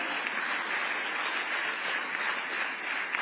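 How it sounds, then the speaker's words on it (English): Dense, steady applause from a large audience at an award ceremony, continuous and fairly distant-sounding throughout. "A big round of applause for Dr."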